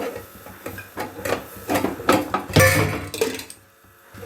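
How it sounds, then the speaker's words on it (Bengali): A metal lid is lifted off a stovetop pressure cooker holding an eggless cake, giving a run of close, clattering metallic knocks and scrapes of moderate loudness that fade to near silence at the end. "এবার উপরের এই ঢাকনাটা আমি খুলে নেব"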